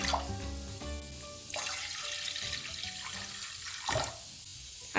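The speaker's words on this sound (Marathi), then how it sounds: "यामध्ये दोन ग्लास पाणी टाकून घेते" Water pours into a pot for cooking rice, two separate glassfuls splashing in close up, each a short rushing gush, with a faint hum beneath.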